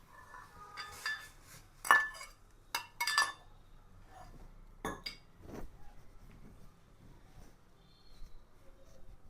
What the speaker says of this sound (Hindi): अब देखिए, ये जो मैंने अदरक कूटी थी, अब मैं इसको चाय में डाल रहा हूँ।